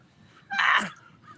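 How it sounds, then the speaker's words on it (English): A crow gives a single loud, harsh caw outdoors near a roadside ditch, short and close, with quiet surroundings before and after. "did you hear the crows are laughing?"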